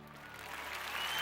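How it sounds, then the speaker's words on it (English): Short burst of applause from a small crowd, steady and close, swelling slightly over about a second. "There's a clap for you all."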